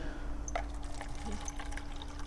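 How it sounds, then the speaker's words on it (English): pH 4 buffer solution is poured into a cup for sensor calibration, giving a faint, close trickle with a few small splashes and drips over a low background hum. "I'm going to just pour enough in here so we can fully submerge the sensor."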